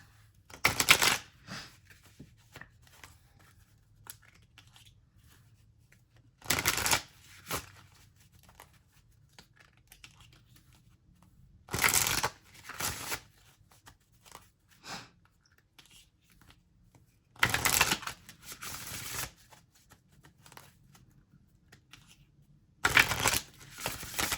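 Chakra reading cards shuffled in five separate bursts spaced roughly five seconds apart, each a crisp riffling flutter close to the listener, with faint handling noise and quiet pauses between.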